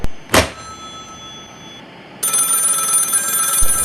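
An old telephone bell rings with a sharp clang, then a sustained bright, buzzing ring fills the later part, loud and close with no one speaking.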